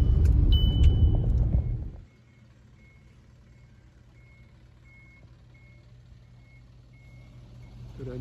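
A truck delivering a rainwater tank to a small protea flower farm rumbles loudly up close for about two seconds, then cuts to a quiet idle, with a steady repeating reversing beep pulsing through the remainder.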